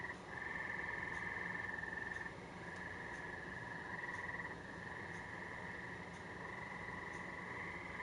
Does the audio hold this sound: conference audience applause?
no